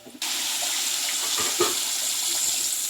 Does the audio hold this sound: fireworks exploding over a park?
no